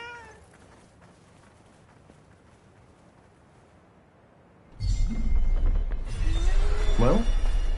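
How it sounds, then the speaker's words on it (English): Cat meowing in the video game Forspoken, a few rising meows over wind and game ambience that turns louder and fuller partway through. "A cat."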